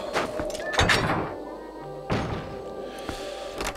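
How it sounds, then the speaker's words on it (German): Door opening with a small key in the video game Zelda: Twilight Princess, heard as a few dull thuds and clunks with a sliding, scraping rumble, moderately loud with game ambience behind. "hier drin ist doch endlich der kleine Schlüssel, damit ich diese Tür hier öffnen kann."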